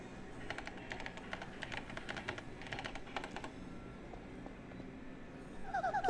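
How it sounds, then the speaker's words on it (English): Fast typing on a keyboard in the video game Paper Mario: The Thousand-Year Door, quick bursts of soft clicky keystrokes, faint and close, followed by a brief rising chime at the end. "That girl typed fast!"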